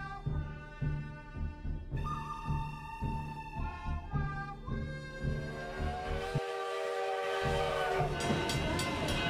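A Virginia & Truckee railroad train running, with a steady rhythmic clickety-clack of wheels and a sustained whistle or horn sounding over it, growing louder and denser toward the end.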